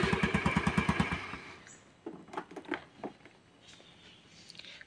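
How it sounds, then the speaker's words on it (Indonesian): Electric starter on an automatic scooter being tested after repair, a rapid rhythmic cranking chatter for about a second, followed by irregular clicks and mechanical rattles, close by with no talk. "kita coba untuk memastikan ini sudah berfungsi lagi untuk starternya"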